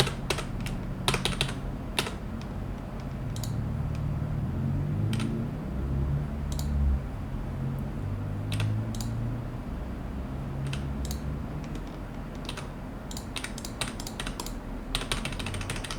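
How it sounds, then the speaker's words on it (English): Keys pressed on a computer keyboard, with sparse, light clicks coming singly and in short clusters over a quiet room background. "I'm just hitting Escape to go forward a page."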